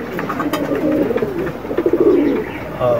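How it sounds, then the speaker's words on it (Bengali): Pigeons coo close by in a run of soft, throaty, rolling calls, with a brief pause before another coo at the end. "কবুতর 3টা দেখাই আমি"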